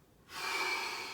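A single deep inhalation during a partial squat warm-up, starting after a short silence and holding as a steady, close breathy rush for most of a second.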